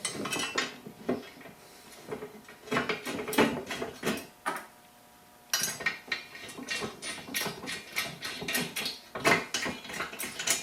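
Bolts being fitted and tightened on trunk rack brackets for a Yamaha Road Star motorcycle sissy bar: irregular metallic clinks, rattles and ratchet-like clicks close by, with a short quiet gap midway.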